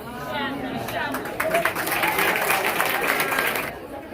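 Crowd clapping at a graduation ceremony in Toronto, a dense patter that swells in the middle and tapers off, with chatter and voices mixed in beneath the applause.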